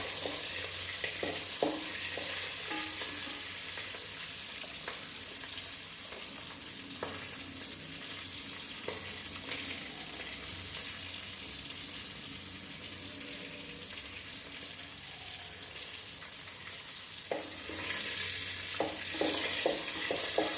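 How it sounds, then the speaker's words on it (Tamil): Garlic and other ingredients sauté in a pan for a kaanagathai fish curry, giving a steady sizzle with intermittent stirring scrapes and clicks throughout and a louder burst of frying near the end. "நல்லா வதங்கிட்டு பாருங்கள்"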